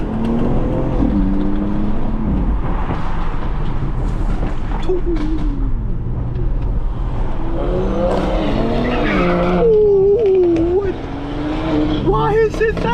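Several BMW X3M SUVs with loud exhaust systems cut through traffic, their engines droning and surging continuously close by, with rising revs and a tire squeal near the end, while people talk excitedly over the noise.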